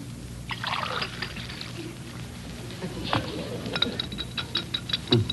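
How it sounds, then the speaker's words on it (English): Water is poured into a glass in an old radio comedy scene, heard as a short splashing trickle followed by bright clinking taps and light stirring near the end, with no voices over it. "Peavy, could I have a glass of water?"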